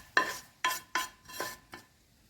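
A spoon scrapes five times across a pan as egg is stirred into a coconut and ghee mixture for a sweet, each stroke a brief, soft rasp with short pauses between.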